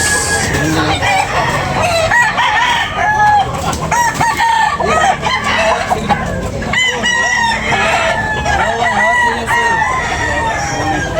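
White hatch gamecock roosters at a poultry sale, crowing repeatedly and clucking in a loud, busy chorus close by. Overlapping calls run through the whole stretch, with faint voices mixed underneath.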